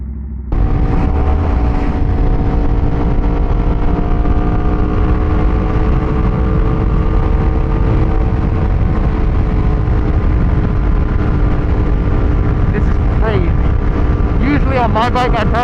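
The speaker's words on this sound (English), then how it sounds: "This bike is ridiculously loud." 2012 Aprilia RSV4 sport motorcycle cruising in fifth gear on a highway, a loud steady engine drone with heavy wind rush at the mic, while the rider talks over it.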